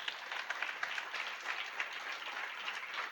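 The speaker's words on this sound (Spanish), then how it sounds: "Vamos a aplaudir al Señor." A congregation at a church service applauding, a steady, moderately faint patter of many hands clapping with soft rhythmic peaks running for the whole few seconds.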